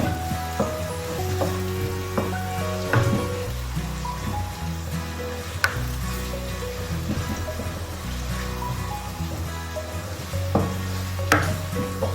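Onions frying in a pan for dhaba-style chana daal, a steady close sizzle broken by a few clinks and stirring scrapes of the utensil against the pan.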